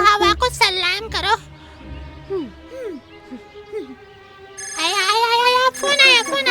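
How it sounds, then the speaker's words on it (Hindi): A cartoon phone ringtone chimes in two bright melodic bursts at the start and end, with a voice speaking and a short whistling tune between them. "फोन आया।"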